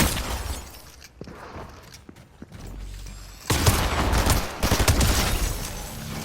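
Gunfire in the video game Fortnite: a few sharp, scattered shots, then dense rapid bursts of firing and crackling impacts from about halfway through, loud and close.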